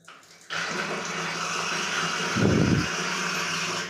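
A tap is turned on abruptly, and the water keeps gushing in a steady, close rush, swelling louder for a moment partway through, with no talk.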